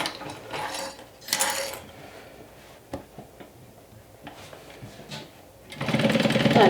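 A domestic sewing machine topstitches a garment seam 1/8 inch from the edge in bursts, with pauses of quieter handling and small clicks between runs and a loud steady stretch at the end.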